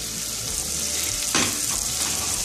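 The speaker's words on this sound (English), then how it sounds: "Saute it for 2-3 minutes till it gets golden brown color." Julienned ginger and garlic sauté in hot oil in a pan, giving a steady close sizzle with a brief louder burst of frying partway through.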